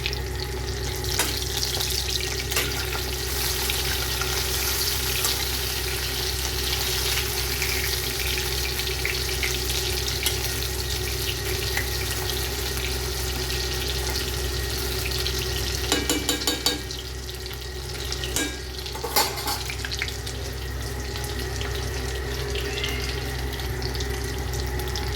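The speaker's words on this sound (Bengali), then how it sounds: "ফার্স্ট 1 রাউন্ড কিন্তু আমি ভাজতে শুরু করে দিয়েছি" Pakoras frying in hot oil, a steady dense sizzle running throughout, with a couple of brief rattling bursts near the end as the batch is moved in the pan.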